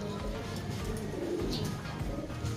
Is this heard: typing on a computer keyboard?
no